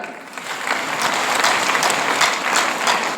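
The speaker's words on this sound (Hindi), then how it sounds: "जोरदार ताली" A crowd applauds loudly, with dense, continuous clapping that holds steady for a few seconds.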